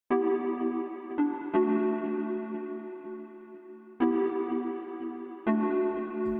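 A synth pluck from the Anna 2 synthesizer plays a few sustained chord inversions, each struck sharply then ringing out with a washy, echoing tail, changing every second or two.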